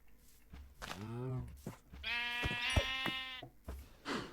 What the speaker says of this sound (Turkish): burada koyun da var